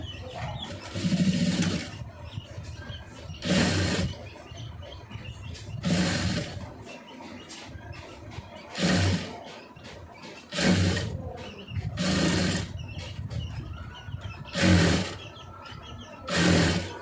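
A sewing machine stitches along the neck edge of a blouse in repeated short bursts of rapid mechanical whirring, close and fairly loud, with brief pauses between runs and no talking.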